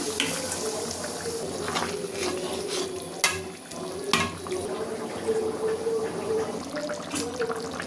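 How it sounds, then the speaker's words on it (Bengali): Water splashes into a pot of chicken curry cooking with potato and raw papaya, a close sloshing and bubbling wash with a couple of sharp clanks partway through. "এখন জল দিয়ে দিলাম।"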